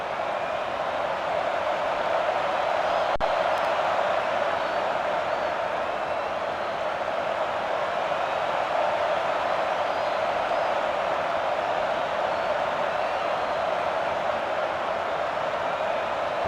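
Steady stadium crowd roar from the Madden 08 football video game, a Cowboys versus 49ers matchup, a dense continuous wash of distant cheering held at an even level throughout with no talk over it.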